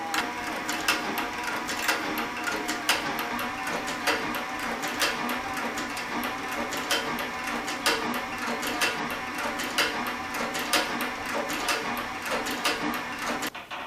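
A Cowboy CB3200 leather saddle and harness stitcher runs steadily up close, its mechanism clattering in a fast, even rhythm of sharp ticks over a continuous mechanical whir, with no voices.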